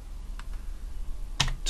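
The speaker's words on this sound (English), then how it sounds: "I can start typing anyway" Typing on a computer keyboard, a few sparse, close key clicks with a short cluster of sharper taps near the end, quiet between strokes and without any talk.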